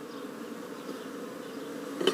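A steady, close hum of honeybees fills an opened top bar hive under inspection, with a short sharp knock near the end.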